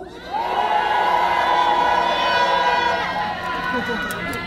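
A large outdoor crowd at a night light festival on Seolbongsan in Icheon, South Korea, roars and cheers in one sustained, swelling shout that fades slowly after a few seconds.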